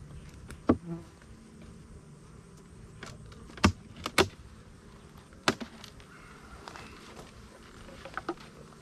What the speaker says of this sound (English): we're gonna shake these bees out.